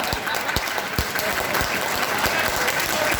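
An audience at a poetry gathering claps continuously in a dense, loud round of applause, individual claps popping out of the steady patter.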